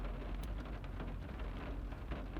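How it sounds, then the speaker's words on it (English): Steady rain falling outdoors on a spring day in Canada, a continuous close hiss of drops hitting surfaces with no other sounds over it. "it's spring here in Canada now, so you can see it's raining"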